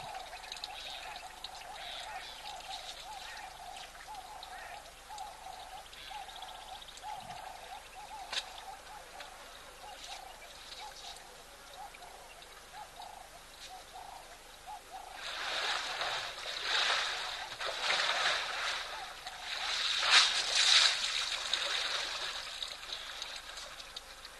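Water splashes onto an elephant and falls back down at an African wildlife watering spot: a gentle trickle grows into a louder, pouring, streaming gush over the last several seconds, heard from a short distance.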